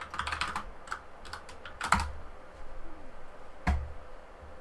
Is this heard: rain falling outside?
no